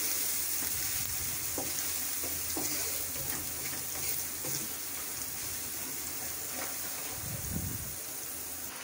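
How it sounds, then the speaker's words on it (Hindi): Chaat masala and other spices frying in a pan for a dhaba-style achari aloo baingan, a steady close sizzle with occasional stirring scrapes and a brief low thump near the end. "अब इसमें तमाम मसाला चाट डाल लें। इसको 1-2 मिनट के लिए अच्छे से भुनाई करें।"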